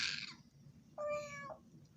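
A cat meows twice: a short high call at the start, then a clear, longer harmonic meow about a second later, close by over low background rumble.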